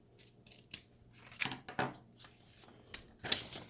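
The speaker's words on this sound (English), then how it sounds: "I will use that as a template to snip the corner on the other side" Scissors snip the corner of a paper tag, several sharp close cuts and crisp paper rustles spaced irregularly in a quiet room.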